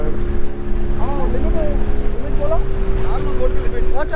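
A boat travels across backwaters in Kerala, its steady engine drone holding a constant tone beneath wind buffeting the microphone, with brief voices rising in the middle and at the end.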